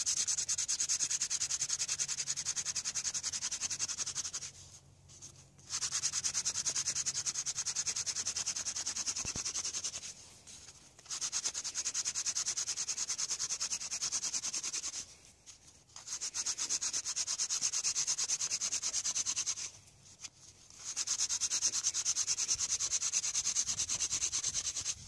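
A wooden hand-drill spindle spins against a wooden fireboard in four sustained bursts of dry, hissing friction, each about four to five seconds long, separated by brief pauses, close and without speech.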